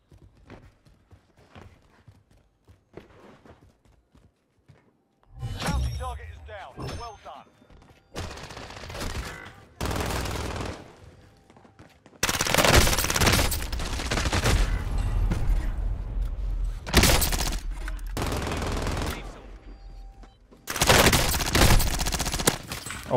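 Turret gunfire in Call of Duty: Warzone, long loud bursts of rapid automatic fire following a quieter opening with faint clicks, close and dominant with brief pauses between volleys.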